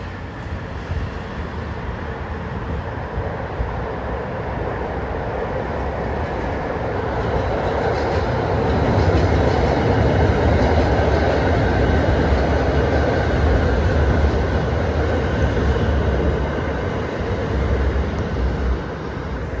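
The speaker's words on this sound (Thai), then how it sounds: "รถไฟฟ้าสายสีแดงอ่อน ก็จอดที่สถานีบางซ่อน" An electric commuter train of the Light Red Line rumbles through Bang Son station in Bangkok, a loud continuous roar of wheels and motor that swells louder midway and then eases slightly.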